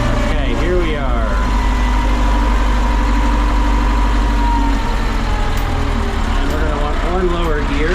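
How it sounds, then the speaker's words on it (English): A Ford 5610 tractor engine drones loudly and close throughout a downshift, its pitch dipping and rising as the gear changes, with a voice audible over the engine noise. "One lower gear. That's an easy downshift."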